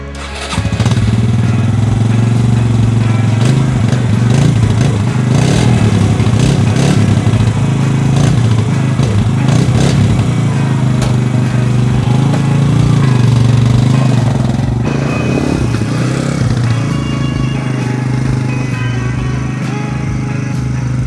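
A Yamaha Raptor 125 ATV, which shares its engine with the TTR 125, runs steadily and loudly up close with a continuous low mechanical drone that holds for about twenty seconds, easing slightly near the end.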